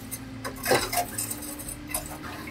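Knife quench oil stirred in a metal container, with clinking and scraping of metal on metal, one louder stroke near the middle and lighter taps around it, close and without talk.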